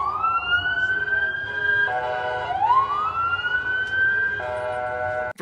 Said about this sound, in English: Very American-sounding sirens